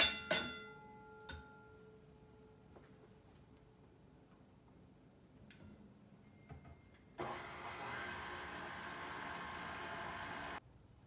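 An electric mixer beats cupcake batter with egg and vanilla extract, a steady whirring hum starting abruptly after a few scattered clicks and knocks and running for several seconds before cutting off.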